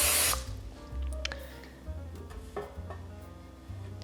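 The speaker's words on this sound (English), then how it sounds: "Just going to aim this over here and just give it a little spray." A spray bottle gives one loud hissing spritz at the start while baking bread, followed by quiet kitchen handling noises and soft clicks of pans being moved nearby.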